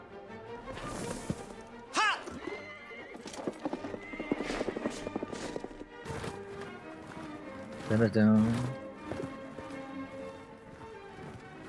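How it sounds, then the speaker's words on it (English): A horse whinnies and hooves clip-clop in a busy mix, with louder thumps and a sharp neigh near the end, all under background talk. "This is the horse"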